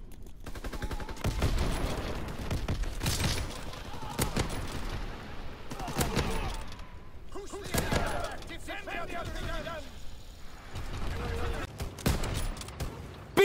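Dense gunfire fills a video game battle, with rapid bursts of automatic fire and scattered single shots going on nonstop. Voices shout over the shooting.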